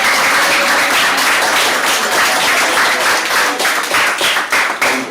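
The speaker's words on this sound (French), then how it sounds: "vous méritez des applaudissements." An audience at a medical-supply donation for a village dispensary in Niangal claps steadily in loud, close, dense applause throughout, with no talking over it.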